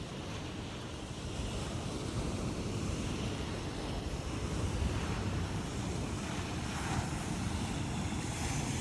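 Ocean surf at Batu Ferringhi Beach in Penang, a continuous broad wash of waves with wind buffeting the microphone, steady and moderately loud with no voices.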